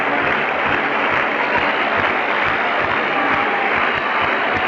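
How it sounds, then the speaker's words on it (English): A 1979 Orioles–Yankees baseball stadium crowd applauds in the background, a steady, distant, uneven wash of clapping and crowd murmur heard over an AM radio broadcast. "You hear the arrhythmic applause begin in the background."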